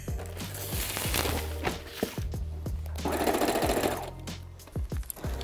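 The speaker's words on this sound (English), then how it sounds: "I sewed my final seam, attaching my hood to my poncho." A sewing machine stitches the final seam joining a hood to a poncho, running in steady rapid bursts with brief pauses and clicks between runs, close and fairly loud with no talking.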